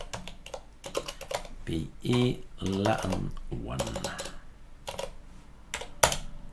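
Rapid clicking keystrokes on a computer keyboard with an AZERTY layout, typed during an Arch Linux installation, come in quick bursts and pauses while someone talks over them.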